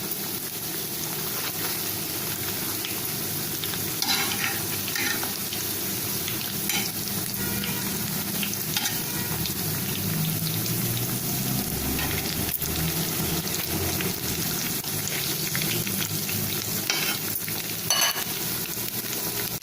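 Soya chaap pieces for a crunchy KFC-style snack fry in hot oil over a medium flame, a steady, close, crackling sizzle that runs unbroken throughout, with scattered pops and no voices.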